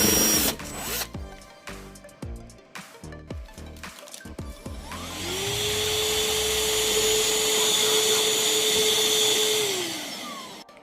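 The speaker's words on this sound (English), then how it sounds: "now we're gonna get the 1/4 inch hole drilled." Power drill boring a quarter-inch hole in the hull of a twin-catamaran RC boat: first several short stuttering bursts, then a sustained high whine lasting about five seconds before it winds down.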